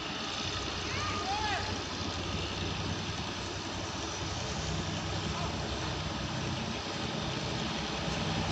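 A GE GEK diesel locomotive throttles up while hauling ordinary train 257 (Thonburi–Kanchanaburi–Nam Tok) out of Nakhon Pathom station, giving a steady, loud, broad engine rumble that holds for the full stretch.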